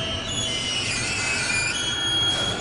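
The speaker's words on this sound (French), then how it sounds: "Tous les jours, ce sont en moyenne 5 trains de 4 wagons qui transitent par cette ligne ferroviaire." A freight train on a rail line runs through a tunnel in a steady, loud rumble, with the hiss of wheels on track and faint high squeals from the wagons, filling the whole stretch without a break.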